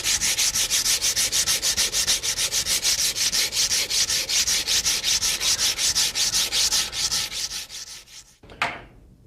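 Steady back-and-forth rubbing of a fine abrasive stick across a Colt 1911 pistol part, hand-polishing away earlier file marks; rapid even strokes, close and continuous, stopping near the end with one brief scrape.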